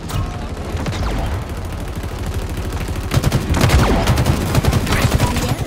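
Rapid automatic gunfire in Halo Infinite multiplayer, sustained shots that swell into a denser, louder stretch of machine-gun bursts near the end, with no talk over them.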